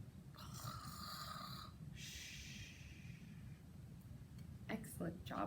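A storyteller imitates a bear snoring during a children's story time, with several long, rasping snores in a row, followed by short breathy snorts and gasps near the end.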